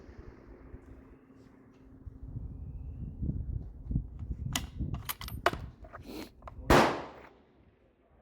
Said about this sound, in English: I'm shooting at the center, just letting the bullet go where it goes